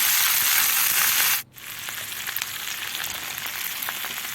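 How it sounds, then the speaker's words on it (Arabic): Chicken and onions sizzle steadily in a pan while being stirred, a loud, close, continuous frying hiss with a brief dip partway through. No one speaks. "وهقلب الفراخ مع البصل تقليبة كده حلوة"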